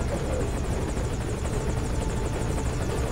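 A helicopter in the video game Metal Gear Solid V: Ground Zeroes whirs steadily with rapid, rhythmic rotor chopping over a dense engine rumble, loud and continuous.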